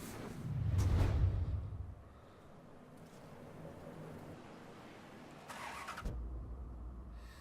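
A car engine in the video game Mafia 3 turns over and rumbles, loud low drone early, then a whoosh and a second low engine burst near the end, no voices.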